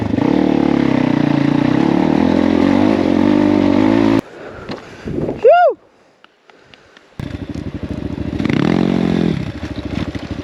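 A Crossfire motorcycle revs loudly while riding uphill on an enduro track, its engine roaring steadily, then cutting out briefly with a whistling tone before the close, strained engine noise returns and builds again.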